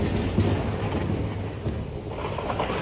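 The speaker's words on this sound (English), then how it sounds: "Thunder, thunder, thunder." Thunder rolling as a low, moderate rumble among steady rain, with a louder swell early on and then fading to a softer grumble, no voices present.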